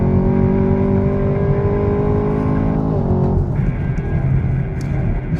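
A 2020 Camaro ZL1 LTE with automatic transmission accelerating hard at full throttle on a track, the engine roaring loudly and steadily with a brief dip in pitch at a gear change.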